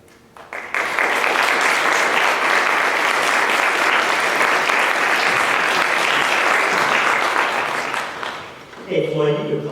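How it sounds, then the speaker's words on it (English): Audience applause after a lecture on capitalism at Princeton, a sustained, loud ovation that swells quickly and then fades, with a voice starting to speak at the end. "you can clap"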